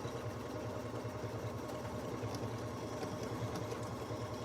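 A BERNINA sewing machine stitching across the seam of joined fabric pieces, a steady, close, continuous mechanical whir and rapid needle chatter without pause.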